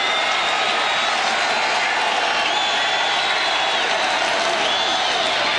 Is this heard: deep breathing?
no